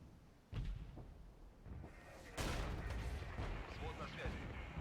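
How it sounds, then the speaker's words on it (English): Artillery fire in the strategy video game Regiments: sudden loud booming blasts at about half a second and again near two and a half seconds, each followed by rumbling battlefield noise and scattered distant shots. "we've identified the artillery. We can easily take that artillery out now."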